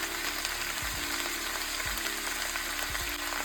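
Spices and ingredients roast in an oil-filled pan for paneer lababdar, giving a steady, close sizzle and crackle with a few soft low thumps from stirring, and no talking.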